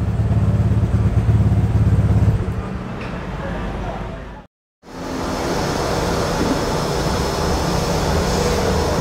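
A modified Vespa Sprint scooter engine idles at about 2000 RPM with a steady, close, loud drone, broken by a brief silent dropout midway.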